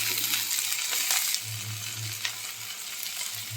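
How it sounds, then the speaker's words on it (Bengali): Chopped green chillies fry with onion and ginger in a steady, fairly soft sizzle, with occasional stirring scrapes and a low hum beneath. "এই লঙ্কা কুচিটাকেও আমি হালকা করে ভেজে নেব"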